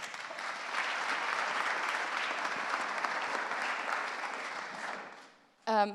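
A forum audience gives a sustained round of applause for Diala, even clapping that holds steady for about five seconds, fades out, and gives way to a speaker beginning to talk.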